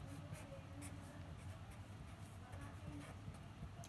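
Marker or chalk scratches across a board during a chemistry lesson, faint continuous scraping strokes with small ticks, low in level and alone without speech.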